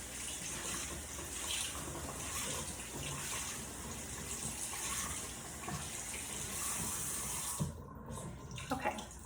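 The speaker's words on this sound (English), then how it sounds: "you do want to wet your sponge and then wring it out as much as possible" A makeup sponge is wet under a running tap, giving a steady, close hiss of flowing water that ends abruptly near the finish, followed by a few faint drips and handling noises.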